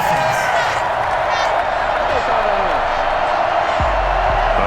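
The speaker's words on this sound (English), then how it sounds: "this crowd does not like that call" A Madden NFL 21 stadium crowd at a Tennessee Titans vs New England Patriots game boos and roars at a penalty call, a loud sustained wall of crowd noise with whistles and shouts throughout.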